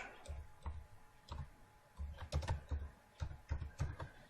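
Quick keystrokes on a computer keyboard come in short irregular bursts, close and fairly quiet, with no one talking.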